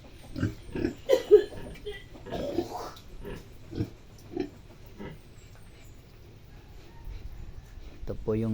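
Large White pigs about a month and a half old grunt and oink in short bursts on a pig farm, several close calls spread through the clip with a louder squeal near the end.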